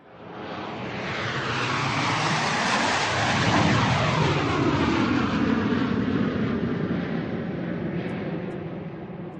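Airplane engine noise during a night flight: a steady, loud, broadband roar that swells slightly and then holds for the full length without a break.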